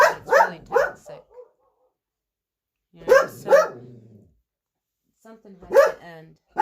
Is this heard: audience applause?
no